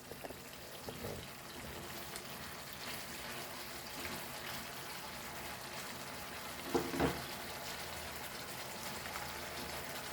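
Chicken wings fry in oil over a high flame, giving a steady, quiet sizzle and crackle with a brief louder spatter near the end.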